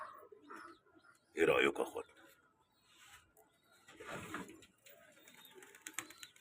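A pair of pigeons in a loft giving soft, low cooing calls in short bursts, mixed with someone speaking in Arabic nearby.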